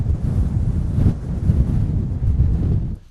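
Strong wind buffets the microphone at an outdoor wild camping spot, a steady low rumbling roar with gusty swells for a few seconds, no voices present.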